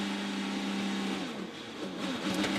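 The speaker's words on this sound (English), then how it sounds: "you hear him pin the throttle" An IndyCar engine at full throttle from onboard, a dense high-pitched wail with rising tonal sweeps as the car accelerates, steady and close with no voices.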